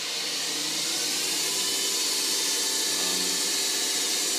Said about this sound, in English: I can turn on my spindle. Turn it off, turn it back on.